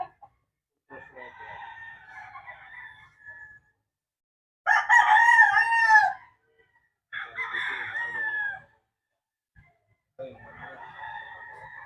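Roosters at a game farm, including a white Kelso gamefowl, crow in several separate calls, one loud close crow in the middle and others slightly softer around it, with pauses between.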